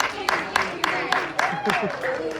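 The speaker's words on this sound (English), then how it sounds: "give yourselves a great big round of applause" Applause from the young audience at a Disney California animation-class drawing session, a handful of sharp claps in a loose rhythm running beneath a talking voice.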